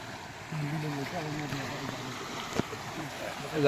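Water from the Saraswati river flows into a dug pit, a soft continuous rushing and trickling heard beneath a voice talking over it.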